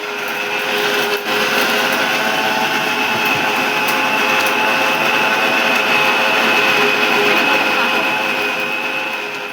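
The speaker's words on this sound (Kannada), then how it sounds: "ಇಷ್ಟನ್ನು ನೀಟಾಗಿ ಮಿಕ್ಸಿಲಿ ರುಬ್ಕೊಬೇಕು." Kitchen mixer grinder running steadily as it grinds turmeric, pepper and cinnamon, a loud continuous whirring motor with a brief dip near the start, no voices.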